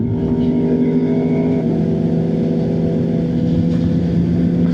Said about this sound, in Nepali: केटाको बाइकको एक्जिस्ट बबाल लाग्छ मलाई